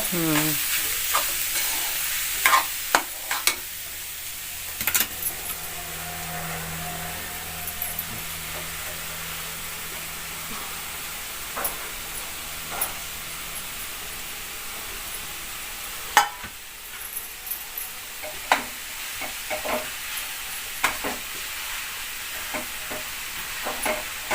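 Jackfruit vegetable being stirred into a hot tempering in a pan: a soft, steady sizzle with repeated scraping and clinking strokes of the spoon, close and moderately loud, with no talking.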